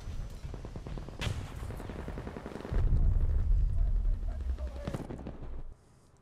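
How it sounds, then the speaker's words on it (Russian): Gunfire and explosions in the video game Battlefield 2042, with bursts of shots and heavy rumbling blasts that swell midway and then cut off abruptly, under someone talking now and then. "Откуда шмаляет, не пойму."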